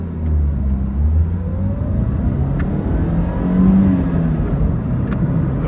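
A 2010/2011 Ford Fiesta 1.6 Class accelerates hard from a standstill toward 100 km/h, its engine note a steady, loud low roar that rises through the revs and swells again near the end, heard from close by with no talk.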